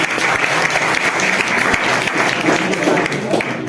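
Audience at a school prize distribution claps steadily for a third-place student, a dense sustained applause filling the room for the whole stretch, close and loud.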